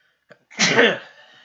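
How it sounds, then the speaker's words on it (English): A single sharp sneeze: a short intake, then a loud burst that trails off quickly, with no talking around it. "Sneeze"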